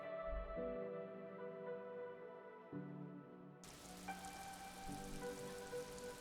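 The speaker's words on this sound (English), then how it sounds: "Sounds like it's raining, although I don't really see rain." Steady rain patters in the video game Disco Elysium, a soft hiss of drops on surfaces beneath sustained tonal ambient music, quiet and continuous.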